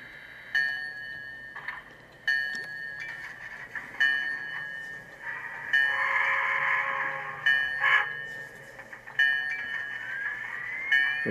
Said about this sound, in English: I just have to turn up the sound of the locomotive